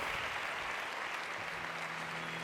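Fainter, continuous clapping from a magic show audience, spread evenly with a low steady hum underneath.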